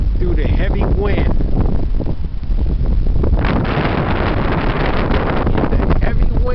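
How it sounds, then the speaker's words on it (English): Heavy wind buffets the microphone in loud, continuous gusts along the Spartan trail, a dense roaring rush that never lets up, with no talking. "Cutting through the Spartan trail in the heavy wind"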